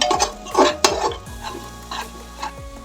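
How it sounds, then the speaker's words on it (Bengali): Spice masala with salt is stirred and sautéed in a pan, with a faint sizzle under sharp scraping and clattering strokes of a utensil against metal that come in short irregular bursts. "এবার মশলাটাকে একটু কষিয়ে নেব"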